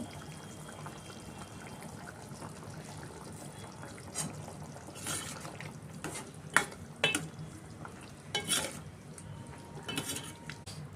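A tomato paneer curry cooks in a pan as kasuri methi goes in, with a faint steady simmer under scattered spoon clinks and scraping stirs that grow more frequent toward the end.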